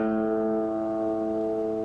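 A guitar's second string, tuned to A in open D tuning, sustains with a steady ringing tone and gentle decay, heard close with no talking.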